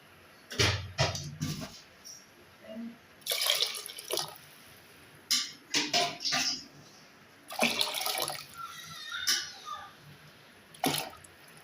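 Water is poured and splashed into a pot while making mutton leg soup, in several short bursts of pouring and dripping separated by quiet gaps, fairly close and soft.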